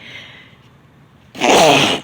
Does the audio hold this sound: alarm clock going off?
no